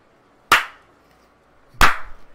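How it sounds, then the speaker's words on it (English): Two sharp hand claps, spaced about a second apart, the second followed by a brief echoing tail; no talking. "I hear you clapping and then I hear it come through the mic."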